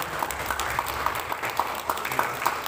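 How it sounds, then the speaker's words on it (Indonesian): Scattered applause from a modest audience at a PAUD working group book launch in Paniai, fairly faint, loose clapping with individual claps standing out in an irregular rhythm. "kita kasih tepuk tangan ke tim Pokja"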